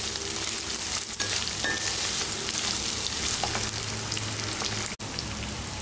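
Sliced onions sizzle steadily in hot oil in a pan with dried fish, a dense continuous frying hiss with a few soft stirring knocks and a brief dip near the end.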